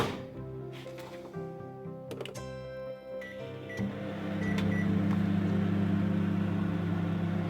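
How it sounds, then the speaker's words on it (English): A microwave oven running with a bowl of water and dish soap inside, its steady hum building after a few clicks and beeps, then holding loud and even with no talking. "we're going to put this into the microwave for about 1 to 2"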